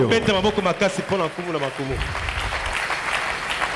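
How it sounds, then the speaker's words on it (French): A church congregation at a sermon breaks into loud applause and cheering; a preacher's voice leads at first, then sustained clapping and shouts fill the hall. "Acclamons très fort pour les rois"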